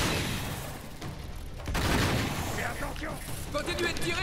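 Gunfire in the action game Uncharted 3: a burst of loud shots and impacts thickens midway, followed by quieter scattered firing while voices speak over the combat.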